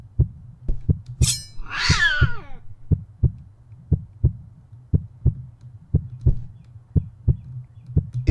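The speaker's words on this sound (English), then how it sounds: "I don't want to stab a cat, though." A cat is stabbed with a knife in the horror video game Good Boy: a steady run of dull, thudding low beats about twice a second, with a brief sharp high burst and a falling yowl-like cry early on, loud and without talk.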